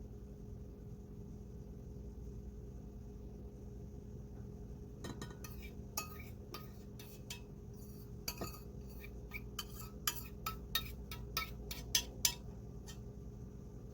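A spoon scoops and taps through purple gel wax in a container while a multi-layer gel candle is made, giving a run of small, close clinks and scrapes that grow busier and louder toward the end, with no talk.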